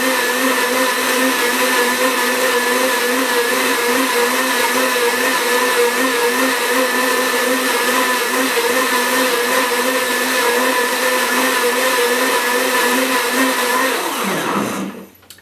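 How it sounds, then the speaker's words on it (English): A blender runs loud and steady at high speed for a long stretch, then winds down and stops abruptly. "the blender shuts itself off when it's done"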